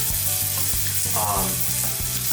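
Oily mackerel (saba) fries in a pan with a continuous, close, crackling sizzle, broken by a few soft clinks and shifts as the fish is moved.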